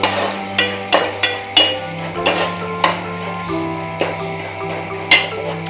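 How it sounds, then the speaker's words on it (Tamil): Turmeric and chili powder fry in hot oil for a South Indian vatha kuzhambu, a close crackling sizzle broken by about a dozen rhythmic metal spoon scrapes and clinks against the pan. "மஞ்சத்தூள் மிளகாத்தூள் போட்டதை எண்ணெயிலே நல்லா பரட்டிடலாம்."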